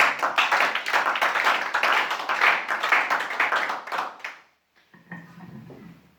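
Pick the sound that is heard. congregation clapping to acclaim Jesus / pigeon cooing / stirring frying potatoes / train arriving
congregation clapping to acclaim Jesus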